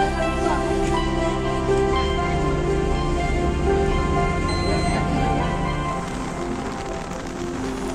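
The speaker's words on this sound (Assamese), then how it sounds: "এইখিনিত এতিয়া বৰষুণ দি আছে" Steady rain falls outside a temple in a forest setting, a continuous wash of patter on wet surfaces with a dense hiss, holding at an even level throughout, with no voices.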